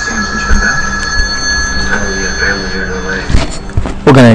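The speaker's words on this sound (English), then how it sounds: "Phone." A telephone rings with a steady electronic warble under constant background noise and voices, continuing throughout, with a few thumps and a louder burst near the end.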